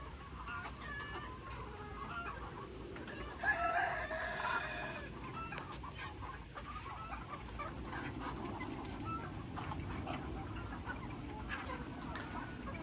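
A rooster crows and local hens cluck around a poultry farm, with one louder burst of calling early on among continuous scattered clucks and background noise, no speech.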